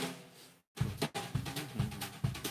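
A drum kit plays a chugging train beat after a brief gap, with busy snare strokes over a steady low kick pulse that repeats about every half second.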